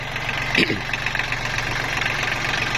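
A Mitsubishi three-cylinder, 16-horsepower direct-injection four-wheel-drive tractor engine idles throughout with an even low rumble and constant mechanical noise, one brief louder knock near the start.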